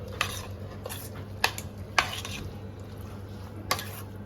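Ingredients with mint being mixed in a pan, with a few sharp clinks and scrapes of a spoon against the metal over a faint low hum and soft sizzle, close by, with no talking.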